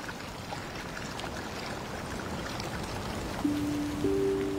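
A spring trickles beside a pond in an outdoor setting, a soft, steady flow of water at a moderate distance, joined near the end by a sustained held tone.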